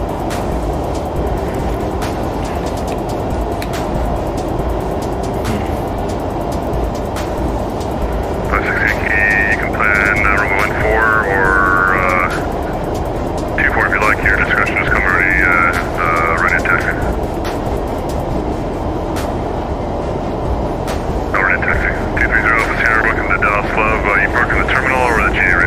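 McDonnell Douglas MD-11 cargo jet engines in X-Plane 12 give a loud, steady broadband roar with a constant low rumble throughout, while voices talk over it in bursts.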